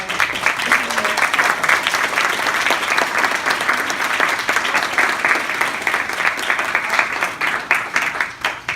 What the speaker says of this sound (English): I would like everyone in the room to applaud those who are